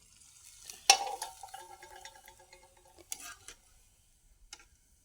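Puffed rice is stirred while roasting in a pan, making a sharp initial clatter followed by soft, crackly rustling and a few scattered scrapes, fairly quiet and without talk.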